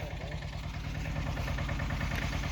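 A mini tractor digging groundnuts in a field runs with a steady, loud, low chugging engine throb that carries evenly through the whole stretch without pause.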